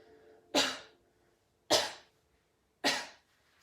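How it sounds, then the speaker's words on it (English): Three sharp coughs, evenly spaced about a second apart, loud and close, with quiet breathing between them. "if you just cough."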